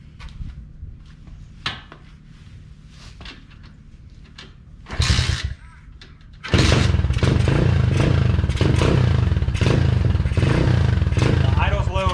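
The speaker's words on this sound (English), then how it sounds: "So we'll see what happens when we fire it up this time." An Apollo Z20 dirt bike, freshly fitted with an upgraded carburetor, is kicked over and its engine catches at about 6.5 seconds, then settles into a loud, steady idle close by, with a few clunks and a brief burst beforehand.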